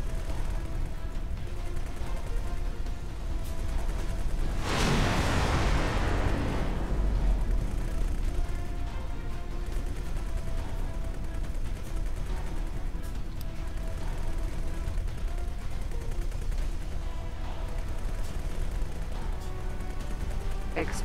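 A loud burst of explosive rumble in the video game X4: Foundations rises and fades over a few seconds, then continuous noisy game background with scattered crackles.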